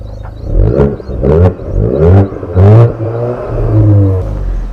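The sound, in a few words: Volkswagen Golf GTI engine revving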